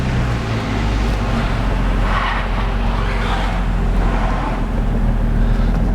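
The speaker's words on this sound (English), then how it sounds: "got that nice new Nismo exhaust on there" A Nissan 350Z engine with a Nismo exhaust rumbles loudly and steadily throughout, with a throaty exhaust note swelling in short bursts, close by.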